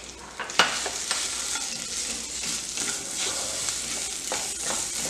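Potatoes and spices roast in a pan over low heat, giving a steady soft sizzle with a few scraping stirs and clinks of the spoon against the pan.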